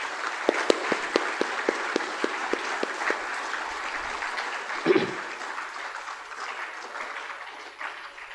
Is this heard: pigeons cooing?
no